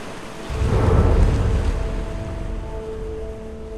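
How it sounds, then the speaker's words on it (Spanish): Ocean waves breaking as a radio drama sound effect, a rising tide with scattered isolated breakers away from the foaming surf line: a broad rushing surge swells in, peaks, then slowly ebbs into a steady wash. "solo la marea creciente y una serie de olas que rompían aisladas, lejos de la línea larga y espumosa de las rompientes"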